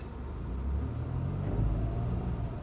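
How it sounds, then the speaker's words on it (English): A car spinning its wheels in Big Bear snow under hard throttle gives a steady low engine and tire rumble that swells slightly midway, continuous and fairly close, with no voices. "jamming the throttle just results in wheel spin"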